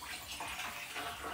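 Blackcurrant wine being stirred in a fermenting vessel, a steady, close swishing and sloshing of liquid that continues without a break.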